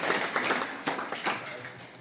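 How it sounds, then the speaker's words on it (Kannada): An audience at a bank staff gathering and birthday event claps in welcome, a short burst of steady, moderately loud applause with a few louder claps standing out. "ಚಪ್ಪಾಳೆ ತಟ್ಟೋದ್ರ ಮುಖಾಂತರ"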